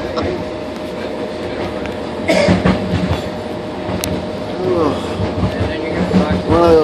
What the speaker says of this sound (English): That was another sky train going by.